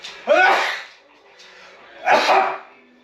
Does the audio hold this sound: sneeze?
yes